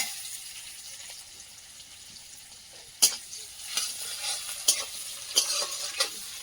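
Onions frying in hot oil in a pan on a new stove, a soft continuous sizzle punctuated by sharp scraping stirs and clinks of a spoon in the second half.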